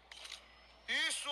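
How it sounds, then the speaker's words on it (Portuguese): A short camera-shutter click sounds in a horror video game, quick and faint, followed at once by a louder voice. "Tira a foto. Bate na foto."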